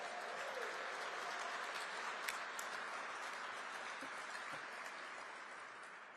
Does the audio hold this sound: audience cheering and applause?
yes